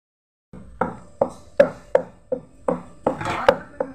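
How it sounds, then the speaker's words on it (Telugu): Ivy gourd pieces are pounded and mixed into a stone-ground tomato chutney, a series of about nine sharp, close knocks at an uneven pace, each ringing briefly, with no talk over them. "దొండకాయ ముక్కలు కలుపుతున్నా"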